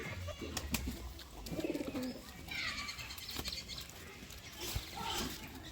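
Pet pigeons coo while eating grain such as chickpeas, paddy and wheat, with repeated soft, throaty coos close by and light pecking clicks scattered between them.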